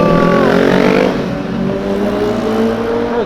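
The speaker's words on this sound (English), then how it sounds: "we gotta check out these motorcycles because they're making so much noise" Motorcycles in downtown Louisville rev hard and pull away, engine pitch climbing and sliding as they drive off, loud and close.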